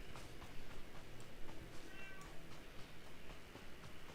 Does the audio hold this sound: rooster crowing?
no